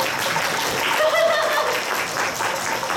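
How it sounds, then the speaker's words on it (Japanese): Steady applause from an event audience for the Kumamon mascot, a broad continuous wash of clapping that holds loud across the whole stretch with no talk over it. "じゃあくまモンのこと見てかっこいいと思ったら拍手"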